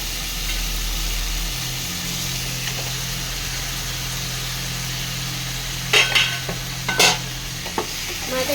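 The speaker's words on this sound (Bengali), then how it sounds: "দিয়ে এটাকে ভালো করে নাড়িয়ে নেবো।" Fried Katla fish heads being stirred into moong dal in a pan, with a steady close sizzle and a few sharp scrapes and clinks of the spoon against the pan near the end.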